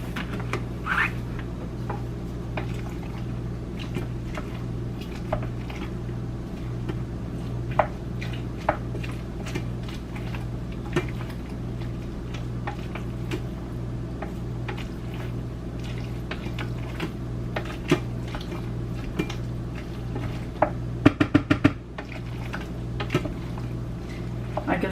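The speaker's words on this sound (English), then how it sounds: "I'm going to stir this again." Macaroni and cheese with cheddar is stirred in an Instant Pot, soft wet squishing and scraping with occasional small clicks of the utensil against the pot over a steady low hum.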